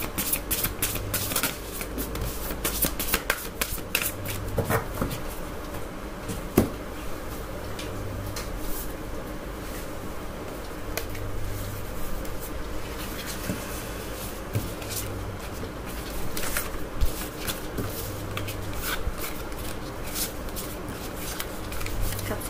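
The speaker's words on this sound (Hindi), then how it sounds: "और ये लास्ट शफल," Tarot cards shuffled by hand in a steady, continuous riffling patter with soft ticking flicks, close and moderately loud for over twenty seconds, with no talking.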